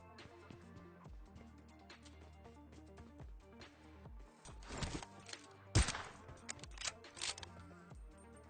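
A loud, sharp AWM sniper rifle shot in PUBG cracks out once over game music and ambient sound, followed by a few smaller bursts and impacts.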